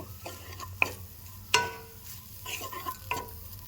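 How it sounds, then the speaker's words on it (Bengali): Chhana cheese being stirred into melted ghee in a pan, a soft low sizzle under intermittent scrapes and clinks of a spoon against the pan, with a sharper knock midway. "ছানাটা দিয়ে ঘিয়ের সাথে ভালো করে মিশিয়ে নেব।"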